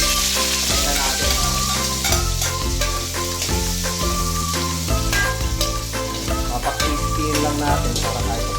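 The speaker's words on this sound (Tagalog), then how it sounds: "medyo prito natin ng konti yung carrots at yung patatas." Carrots and potatoes fry in a hot pan for igado, a loud, steady sizzle with frequent clattering stirs and scrapes of a utensil against the pan, and no voices.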